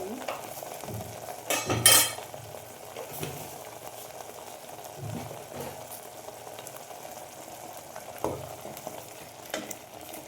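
Chickpea gravy with turmeric bubbles and sizzles in a pan, a close, steady simmer broken by a burst of stirring and spoon clatter early on and a few later scrapes, no talk.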